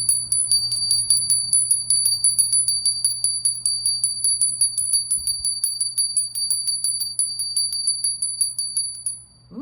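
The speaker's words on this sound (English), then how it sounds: "So I'm going to ring a bell." A small bell is struck over and over at a quick, steady pace, each bright, high ring overlapping the next for nearly ten seconds, with a faint low hum underneath.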